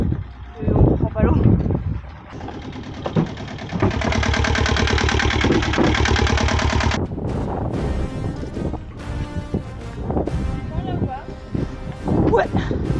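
Sailboat inboard engine turning over and catching, then settling into a steady mid-pitched idle for a few seconds before cutting out, with people talking before and after and some wind noise on the microphone.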